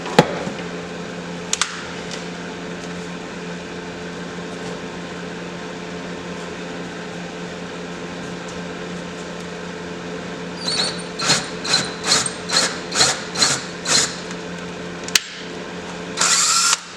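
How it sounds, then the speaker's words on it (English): A power drill runs steadily throughout, bores into a braided wooden unity cross, then rises into a series of about eight short rhythmic bursts and a final sustained whine, close and loud. "So I'm going to go ahead and drill a little bit more."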